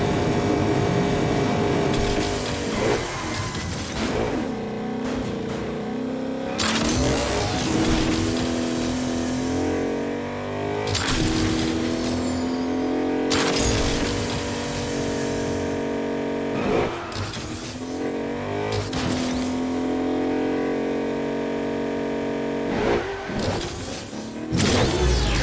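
A race car engine in the Agents of Mayhem video game revs hard again and again, each loud surge climbing in pitch before dropping back, in a steady rhythm for the whole stretch with no talk.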